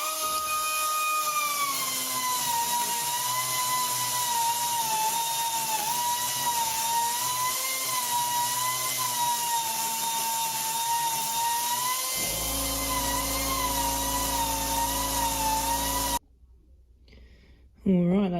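A die grinder enlarges a hole near the manifold while someone works on an EB Ford Falcon fitted with a Barra engine. Close and sustained, its high whine wavers in pitch, shifts to a lower tone near the end, then cuts off.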